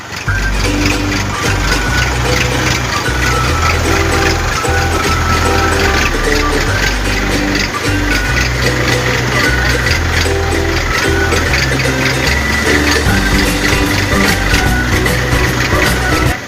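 A tractor engine running steadily and loudly close by, a continuous low mechanical drone with a rhythmic chug throughout, and no voices over it.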